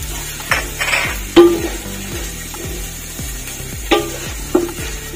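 Four or five green chilies hiss and crackle in oil while a spoon scrapes and stirs them around the pan in repeated strokes. Occasional louder clacks of metal on the pan rise above a steady sizzle, with no talk.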